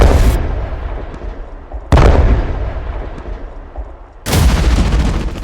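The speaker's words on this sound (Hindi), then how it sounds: "दोनों सैनिक उस पर अपनी कलाश्निकोव राइफल से गोली चला रहे हैं" Three loud, sharp Kalashnikov rifle gunshots spaced a couple of seconds apart, each followed by a booming echo that fades out.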